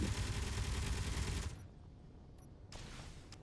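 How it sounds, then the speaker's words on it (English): A spaceship in the Space Engineers video game fires a heavy stream of torpedoes, a dense loud roaring barrage that cuts off abruptly, followed by a quieter hiss and a couple of faint distant bursts. "This is firing a lot of torpedoes."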